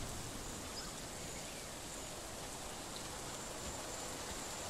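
Steady rain falls throughout, a dense even hiss of drops with no breaks, on the ground at the edge of a forest where a young giganotosaurus looks around.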